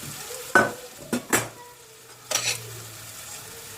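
Spinach stems sautéing in a pan with a little water, giving a few short sizzling bursts and stirring scrapes close by, separated by quieter gaps.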